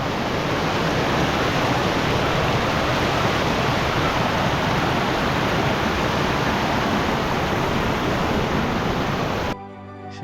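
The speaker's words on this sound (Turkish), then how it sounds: "Şimdi şelalelerin gürültüsünden ve suyundan ayrıldım." A waterfall in the Hakkari mountains roars loud and steady as a dense, unbroken rush of falling water, close by, then cuts off abruptly near the end.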